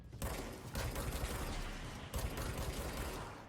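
Gunfire from the video game Control rattles in two dense, loud bursts that fill the space, briefly broken by short gaps, with no voices over it.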